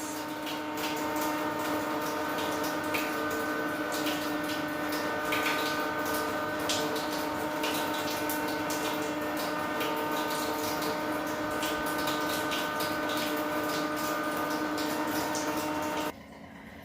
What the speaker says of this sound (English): So the water ran through the CPU for 10 minutes